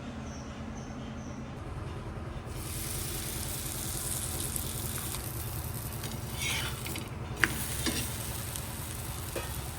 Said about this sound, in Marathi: आपला पराठा लाटून झालाय, आता आपण त्याला भाजून घेऊ